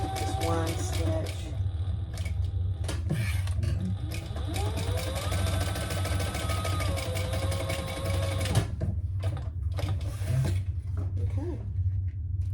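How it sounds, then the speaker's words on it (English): A sewing machine back stitches a waist pack at its corners, a steady close mechanical whir with brief stops and restarts and a faint voice in the background. "And then I'm back stitching right there, just one stitch."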